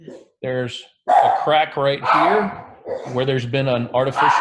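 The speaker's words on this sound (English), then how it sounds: "I apologize for my dogs." Dogs bark and yip under a man's speech, sharp bursts scattered through the clip while he keeps talking in a room.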